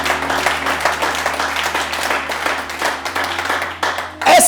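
A church congregation applauds and claps steadily in a reverberant hall, a dense sustained wash of hands with a low musical hum underneath, swelling briefly near the end.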